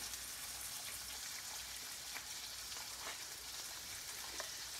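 Chopped onion hits the pan in a pork chop and vegetable sauté, giving a faint, steady sizzle sprinkled with soft crackles and pops, with no talking.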